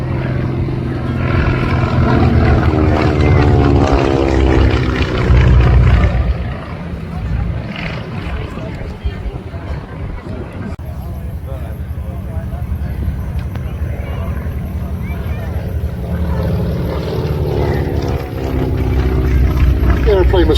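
A propeller aeroplane flying at the Headcorn Battle of Britain air show gives a loud, steady engine drone that rises and falls as it passes, with a voice talking over it.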